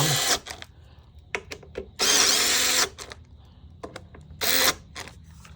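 A power tool drives wheel bolts tight on an X-Way wheel during a tire change, with three loud whirring bursts of about a second each, separated by clicks and handling clatter, close up.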